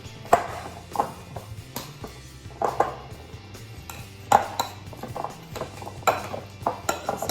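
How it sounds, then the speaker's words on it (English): A hand masher works ripe avocados in a bowl, making sharp metallic clinks and soft thuds at an irregular pace of roughly one to two seconds, close and distinct over a quiet background. "Now I'm going to mash them. Just with this masher, just mash it like that."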